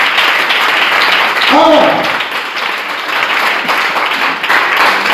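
A church congregation applauding as a broad steady wash of clapping, loud and sustained throughout, with a preacher's voice briefly heard over it.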